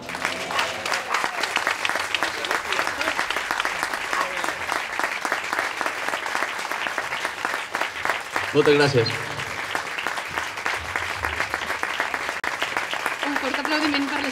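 Sustained audience applause fills a commemorative civic ceremony in Sant Vicenç dels Horts after a performance, steady and dense throughout, with a brief spoken thanks cutting through around the middle.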